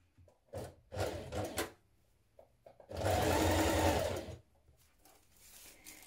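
A sewing machine runs in short bursts while stitching a shirt dress bodice to its skirt at the elastic casing: two brief runs, then a longer steady whir of about a second and a half, close and clear.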